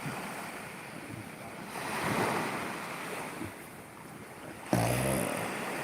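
Sea waves surge and wash steadily with gusty wind buffeting the microphone, one wave swelling louder near the end.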